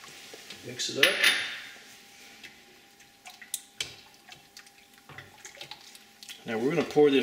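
A homemade Taejin pickling mixture is stirred in a pot, with clinks and scrapes of a utensil against the metal, some splashing and dripping liquid, and scattered quiet kitchen noises between the louder stirring bursts.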